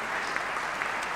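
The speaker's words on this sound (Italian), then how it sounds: "Dedichiamo un applauso anche a John, che non c'è più e se lo merita tutto." A tribute round of applause rises from an audience at a basketball talk honoring a late figure, a brief, dense patter of many hands at moderate distance.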